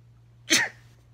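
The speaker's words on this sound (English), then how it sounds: "I just sneezed" A single sharp sneeze bursts out over a faint steady hum, brief and close, with no talking around it.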